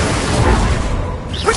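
Incendio fire spell cast during Hogwarts Legacy gameplay on PS5: a loud, dense burst of rushing whoosh and crackle fills the short moment, ending with a brief brighter flare.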